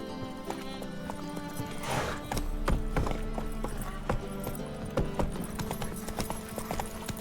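Geralt's horse Roach trotting in Witcher 3, hooves clip-clopping in a steady rhythm alongside game ambience and occasional spoken lines.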